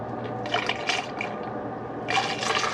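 Coolant gurgles and trickles through the cooling system of an Ecotec engine being flushed for overheating, a close, continuous liquid rush with bubbly bursts that swell and fade.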